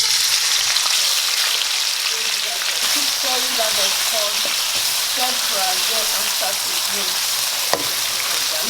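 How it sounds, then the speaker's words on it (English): Beef and vegetables fry in a pan with curry powder, giving a loud, steady hiss and crackle that holds throughout, with faint scraping and a sharp tap near the end. "We're gonna allow it to fry."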